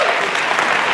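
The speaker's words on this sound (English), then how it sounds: "How about another round of applause?" Audience applause at a talent show following a singing act: dense, steady clapping from a crowd, loud and continuous throughout the short burst.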